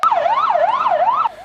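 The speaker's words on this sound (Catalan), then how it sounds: "avions i so d'ambulàncies" Ambulance siren wailing on a busy avenue in Valencia, a loud, close wavering tone rising and falling in steady cycles before cutting off abruptly near the end.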